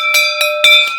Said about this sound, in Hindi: ये जो घंटी हो गई है ना, ये पहलवानी में सबसे ज्यादा जरूरी होती है।